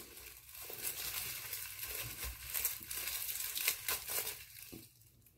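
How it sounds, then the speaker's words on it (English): A knife cuts up an onion close by, with crisp, crunchy crackles and crinkling slices that run in an uneven stream and pause briefly near the end. "cut up an onion"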